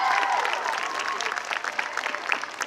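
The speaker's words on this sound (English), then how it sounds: "Let's give Miss Moshman a big round of applause." An audience applauds a speaker at a Rotary event for eighth-grade girls in Antioch, with dense, steady clapping from a sizeable crowd that fades slightly over its brief run.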